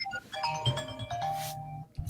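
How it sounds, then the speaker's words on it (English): A short electronic phone ringtone plays a bright melodic chime pattern of tones for about two seconds, then cuts off abruptly. "I thought I turned my phone off."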